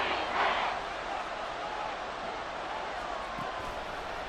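Stadium crowd in an American football video game, Madden NFL 24, a steady distant roar of cheering that swells briefly at the start, with a commentator talking over it.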